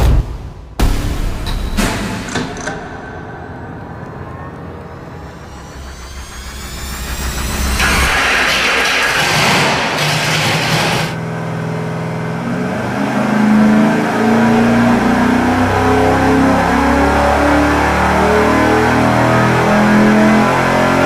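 A 408 cubic-inch stroker V8 (Ford vs Mopar comparison) fires up on an engine dyno, then revs and pulls hard under load, a loud sustained roar climbing in pitch with no talk over it.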